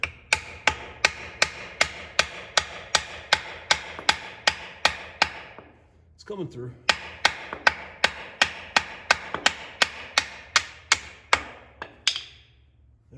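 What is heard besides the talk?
hammer gently tapping steering pivot pin on International 986 tractor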